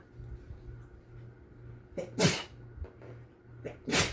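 Two sharp sneezes, one around the middle and another near the end, over a low steady hum with faint rustling.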